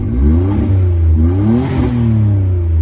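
Suzuki Alto Works engine revving with its exhaust giving small back pops: a loud, close, rising and falling engine drone with rapid throttle blips and light crackle, no talking.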